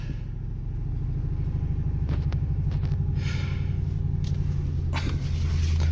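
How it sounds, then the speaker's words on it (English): A used car's engine is restarted and settles into idle, a steady low rumble with a regular throb, close by and alone, with a few brief clicks and knocks over it. "start her back up"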